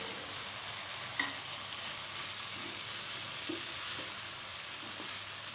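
Chickpeas, already fried, tipped into tomato sauce in a pan and stirred, giving a steady soft sizzle with a couple of faint clinks and scrapes.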